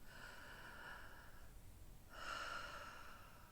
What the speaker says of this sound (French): j'inspire, je gonfle mon ventre